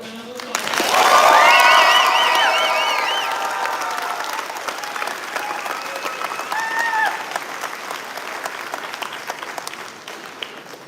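A graduation crowd at an early college high school ceremony breaks into loud applause and cheering for the class of 2022, swelling quickly, with whoops and shouts on top, then easing into sustained clapping.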